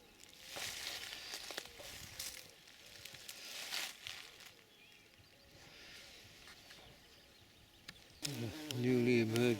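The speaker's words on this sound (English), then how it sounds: "A newly emerged queen bee looking to somewhere to start a nest." A newly emerged queen bee buzzes through a spring garden in a low steady drone that rises and falls, with a brief louder burst of other noise near the end.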